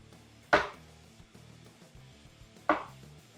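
Two sharp knife strokes through peeled medium onions on a cutting board, spaced about two seconds apart, close and fairly loud with quiet between.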